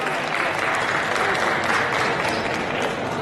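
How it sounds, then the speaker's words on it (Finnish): Big crowd applause greets a competitor stepping up at a Finnish championship repetition bench press event at a fitness expo, a steady dense wash of clapping held at full strength throughout. "Isot aplodit"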